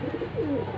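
Pigeon giving a single short coo, a low, soft, throaty call heard close up with nothing else around it.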